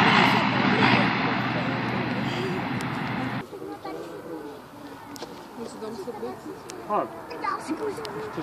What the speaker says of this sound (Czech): Přistál nějaký buď Airbus nebo Boeing. Boeing. Malý Airbus 320.